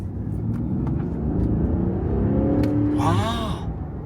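New Land Rover Defender engine revving during a misfire test, a loud sustained low rumble that climbs in pitch, with a brief higher whine near the end.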